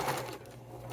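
Sewing machine stitching a quarter-inch seam on a wallet, a steady close mechanical hum running evenly through the short stretch with no talk.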